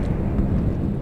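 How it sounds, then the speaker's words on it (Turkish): Airplane droning overhead in the video game PUBG, a steady low rumbling roar heard as a continuous loud wash with no voices over it. "Bu uçak sesinin Allah cezasını versin."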